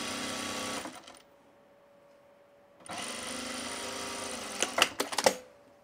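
A sewing machine stitches a tool belt seam in two bursts, one short and one longer, with a steady motor whir and a few sharper clicks near the end of the second run. The machine is close and there is no talk.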